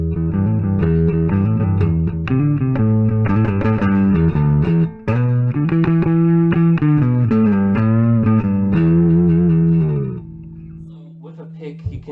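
Electric bass guitar, a Chinese copy of a Rickenbacker 4003, played with a pick, a loud riff with gritty amp distortion, a run of punchy notes, a short break, then a held note fading out.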